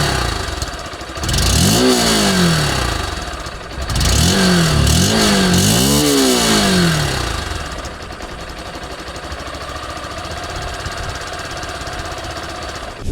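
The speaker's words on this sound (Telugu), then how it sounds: "ఈ బైక్లో ఎగ్జాస్ట్ నోట్ ఎలా ఉంటుందో ఒకసారి చూద్దాం మనం" A 2026 Honda SP160 motorcycle parked at a showroom, engine revved hard several times with rising and falling exhaust surges, then settling to a steady idle, loud and close.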